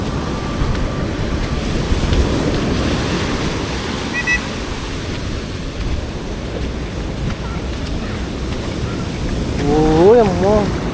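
Sea waves flooding a black sand beach in Kerala, a continuous rushing surf with wind buffeting the microphone, and a brief voice near the end.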